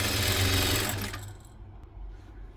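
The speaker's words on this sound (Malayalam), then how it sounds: "ആദ്യം ഒന്ന് സ്ട്രെയിറ്റ് ആയിട്ട് നമുക്കൊന്ന് തയ്ച്ചെടുക്കാം" Domestic sewing machine running a straight seam on a nightie, a loud steady whirring hum for about a second before slowing and fading into quieter mechanical rattle.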